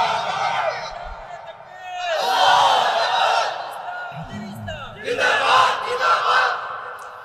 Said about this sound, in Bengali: 2 মিনিট তাকবীর দাও না।